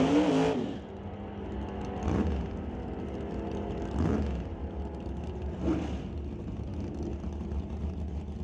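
Drag racing car launching down the strip at an NHRA test and tune session, a loud engine roar at the start that fades into a steady distant rumble with a few recurring surges as it runs away.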